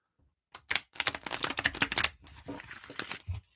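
A deck of playing cards is riffle-shuffled, a rapid fluttering burst of clicks lasting a couple of seconds, up close and with no voices.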